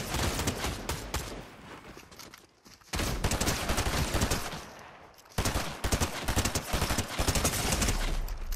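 Weapons firing in the Fortnite video game: dense, loud bursts of rapid automatic gunfire in three long volleys, separated by short near-silent gaps.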